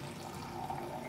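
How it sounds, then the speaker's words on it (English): A cup of warm water is poured into a goat remedy mix of sweet potato and yogurt, giving a soft continuous trickle and splash nearby. "then we're going to take one cup of warm water."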